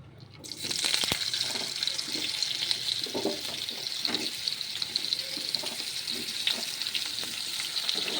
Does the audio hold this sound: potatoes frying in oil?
yes